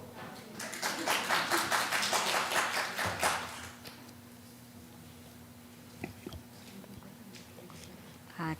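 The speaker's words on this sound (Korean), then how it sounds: "박수 소리가 너무 작아요." Church small-group audience clapping for a leader coming forward; a faint burst of scattered handclaps that fades out after about three seconds, leaving quiet room hum and a few small knocks.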